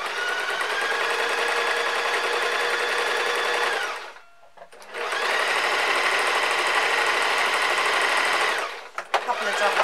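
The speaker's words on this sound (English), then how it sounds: "lining that up in the sewing machine." A sewing machine stitches a body builder top in two long continuous runs, separated by a short pause, loud and close, with no talk over the motor.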